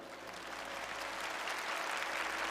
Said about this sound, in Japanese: 私と一緒に立ち回り助けてくださる方はぜひ拍手をお願いします